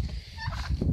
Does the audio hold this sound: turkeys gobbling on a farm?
yes